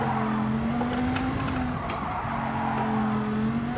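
A race car in a sim racing game runs a qualifying lap, its engine droning steadily at high revs. The note drops briefly as it brakes for a corner, then tires squeal before it pulls back up to speed.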